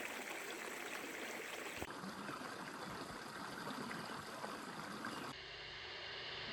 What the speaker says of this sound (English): these monsoon streams becomes the most calming and blissful elements of nature that greenifies the landscape